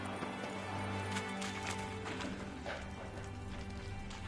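Roach, a horse in The Witcher 3 video game, clip-clops along steadily at a trot, hooves landing in a close rhythmic pattern over continuous game ambience, with a brief whinny-like sound in the middle and no talk.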